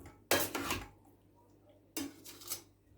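A spoon scrapes and clatters in a bowl as bulgur and red lentils are stirred together for köfte. There are two close bursts of mixing with a pause between them, and nobody speaks.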